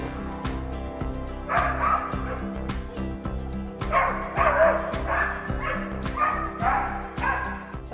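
A dog barks and yips repeatedly during an agility run, sharp excited bursts in clusters over a rhythmic background thumping, fairly close and loud.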